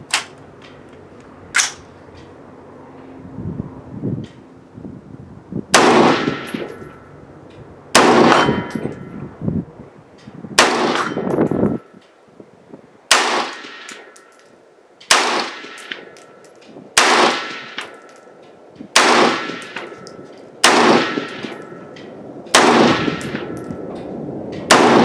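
Springfield Armory Saint rifle firing American Federal 5.56 ammunition fed from a Mission First Tactical magazine outdoors, with about a dozen loud, sharp shots at irregular intervals and ringing tails between them.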